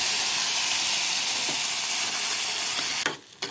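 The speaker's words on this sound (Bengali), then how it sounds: "পাতাকপিটা তেলে দিয়ে দিব" Shredded cabbage with tomato, potato and peas sizzles in hot oil in a pan, a loud continuous frying hiss. It drops out abruptly near the end, then briefly returns. No voices.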